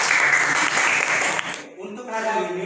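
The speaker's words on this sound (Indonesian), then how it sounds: "tepuk tangan dulu" A classroom of students gives a dense burst of applause that lasts about a second and a half, then stops abruptly. A speaking voice follows in the quiet.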